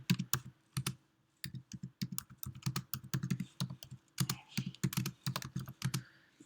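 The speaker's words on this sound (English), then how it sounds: "now we're just going to type in the words" Typing on a computer keyboard while entering lyrics in Finale notation software: quick irregular bursts of close key clicks with short pauses between groups, clear and alone without talk.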